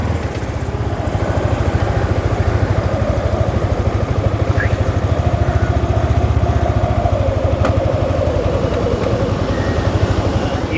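Yamaha R15 sports motorcycle ridden slowly around private premises, its engine a steady, close, rapid-firing drone with a few faint clicks and no speech throughout.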